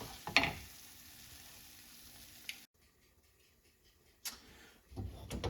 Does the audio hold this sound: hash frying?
yes